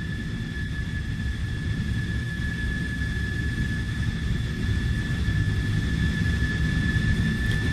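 Jet fighter sound effect track in GarageBand: a steady, loud broadband roar with a high whine, continuous and unchanging throughout, no voices.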